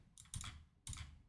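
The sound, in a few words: typing a code on a computer keyboard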